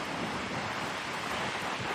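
Strong wind in Iceland roars steadily across the microphone, a dense, unbroken rush of noise with no pauses and no voices.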